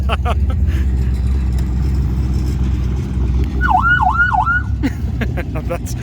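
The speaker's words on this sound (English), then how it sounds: "Show me the siren, bud. How loud do you want it? Loud as she goes." A vehicle siren gives a short burst of rapid warbling yelps over loud engine rumble, followed by clicks and a brief voice.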